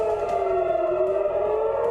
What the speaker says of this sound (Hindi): हाइफा में सायरन की आवाज गूंजी,